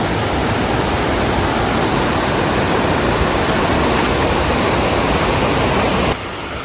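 A waterfall along the Sea to Sky Highway roars in a loud, steady, unbroken rush of falling water, close by and dense throughout, easing slightly in the final moment.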